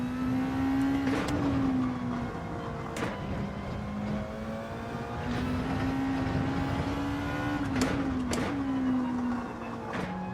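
Porsche hybrid race car in Gran Turismo 7, a steady engine drone that climbs and dips in pitch through shifts, close and continuous with sharp gear-change blips, no voices.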